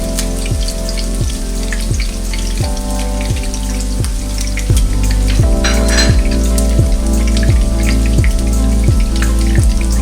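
A burger patty sizzles steadily on a hot flat surface for a Vegas-style burger, giving a loud, close, continuous crackle and spatter over a repeating low mechanical thump, with no talking.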